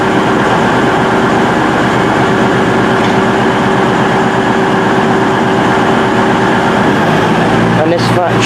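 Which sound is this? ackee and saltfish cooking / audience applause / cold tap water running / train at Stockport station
train at Stockport station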